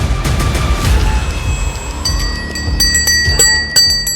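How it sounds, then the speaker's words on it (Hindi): A sadhvi rings a ritual hand bell during a Himalayan invocation ceremony, with bright metallic strikes repeating irregularly and ringing out, close and loud, over low rumbling thuds and no talk. "साध्वी ने घंटी बजाई"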